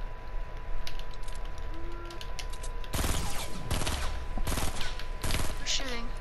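Gunfire in the video game Fortnite crackles in several sharp bursts and rapid volleys over a steady game background hum, with a player's voice talking briefly.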